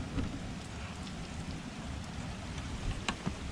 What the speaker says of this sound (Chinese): 这外面的雨真的下的超级大